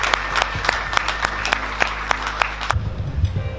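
A thin crowd claps at a Black Lives Matter flag raising, with distinct individual claps spaced out over a low background hum before the applause fades.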